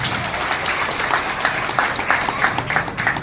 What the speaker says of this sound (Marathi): एकदा जोरदार टाळ्या होऊन जाऊया.